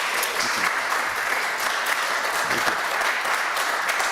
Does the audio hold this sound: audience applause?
yes